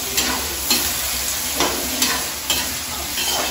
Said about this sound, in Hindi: जीरा का तड़का दे रही हूँ